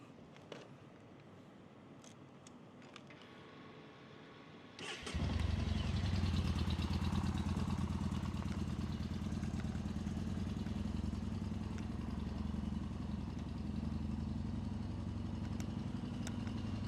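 After a few seconds of quiet clicks, the engine of a 2018 Yamaha Bolt motorcycle fires up abruptly and settles into a steady, loud idle close by.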